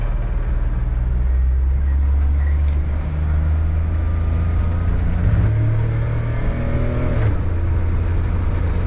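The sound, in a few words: Daihatsu Mira car accelerating while driving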